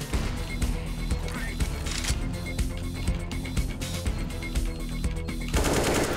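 Rapid automatic gunfire from a Counter-Strike: Global Offensive competitive match, bursts of sharp shots firing in quick succession throughout, with a louder burst near the end.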